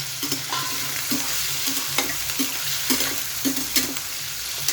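Paneer cubes fry in hot oil for palak paneer, hissing in a constant close sizzle while regular scrapes and taps of a spoon against the pan stir through it.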